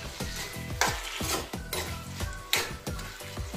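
Rhythmic stirring of a sweet-sour ripe pumpkin curry with jaggery and tamarind water in a pan, a spoon scraping and clinking against the metal every half second or so over a soft sizzle, close and without talking.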